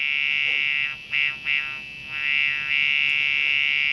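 The buzzer inside a Compaq LTE 386s/20 laptop sounds a continuous high-pitched tone at switch-on, briefly dipping and stuttering twice before holding steady.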